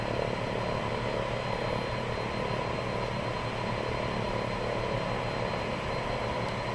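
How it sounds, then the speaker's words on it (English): Embraer 110 propeller plane in X-Plane 10 approaching the runway at Bangor: a steady, loud engine and propeller drone with no pauses, running alone the whole time. "The sounds of this aircraft are really well made."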